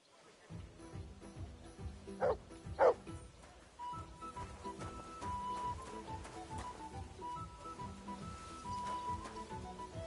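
A dog in the video game Kingdom Come Deliverance 2 gives a few quick yips and barks over a busy rhythmic game soundscape, near and moderately loud, with faint voices in the mix.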